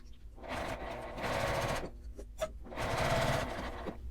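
Sewing machine stitching a small laminated fabric coin wallet, two long bursts of rapid even stitching separated by a short pause with a couple of clicks, close and steady.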